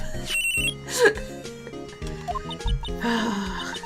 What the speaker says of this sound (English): That ringing is so annoying.